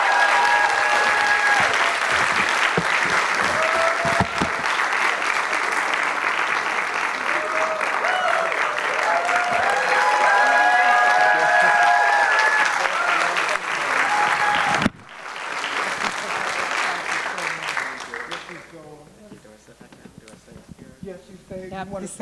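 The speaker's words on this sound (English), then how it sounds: "Everyone, let's give a round of applause to our first Engendered Spirit Award" An audience at an awards event applauds an award recipient with loud, sustained clapping for about fifteen seconds, then it cuts off abruptly and a person speaks while faint clapping lingers.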